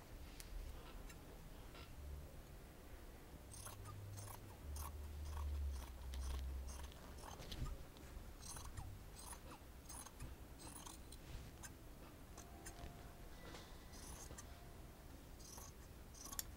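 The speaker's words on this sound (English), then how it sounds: "And now I'll cut the other side." Scissors snip steadily through t-shirt fabric in a quiet room, a run of soft, close crisp cuts with short pauses between strokes.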